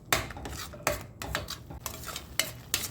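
Masala puri spice mixture stirred in a pan, with repeated scraping and clinking strokes of a utensil against the metal at an irregular rhythm, close and fairly quiet with faint sizzling beneath.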